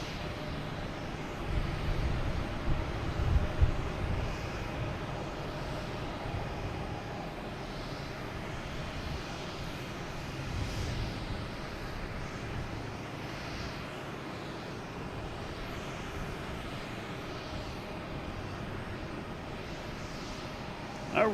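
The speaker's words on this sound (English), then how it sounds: "we have a JetBlue coming in from Philadelphia, flight 560 and A220" A JetBlue Airbus A220 airliner arriving from Philadelphia at Boston Logan makes a faint, distant, steady engine rumble that holds evenly with no clear peak.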